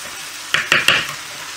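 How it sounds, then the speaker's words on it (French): Onions frying in a pressure cooker pot for a Moroccan vegetable douaz give a steady sizzle, with three or four sharp scraping stirs close by, no talking. "vous pouvez rajouter encore de la pression pour faire revenir les oignons"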